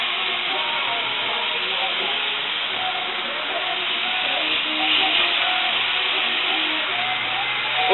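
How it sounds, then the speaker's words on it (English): Salisbury steak patties searing in an overcrowded hot skillet give off a loud, steady sizzling hiss that carries unbroken from start to finish. "I'm going to let that sear on both sides"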